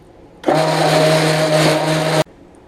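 A stick blender buzzes at a steady high whine for about two seconds while mixing soap batter, starting and stopping abruptly, close and loud.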